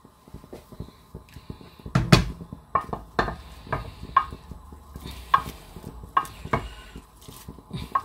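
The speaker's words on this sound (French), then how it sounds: "nous allons rajouter notre salade à cuire" Salad greens and tomatoes cook in a pan, a faint sizzle under scattered utensil scrapes and knocks against cookware, with a light repeating tick in the background.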